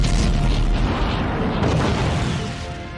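Explosion effect for dying stars in a space documentary: a deep, heavy rumbling boom with rolling low-end turbulence and crackle, sustained loudly before fading slightly toward the end, no talk.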